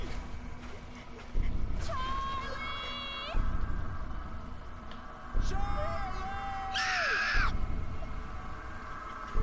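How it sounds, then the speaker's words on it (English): A stock child scream sound effect in the horror game Slender The Arrival rings out in short high wails over droning game ambience, with a loud final shriek near the end. "Child scream stock sound number 2."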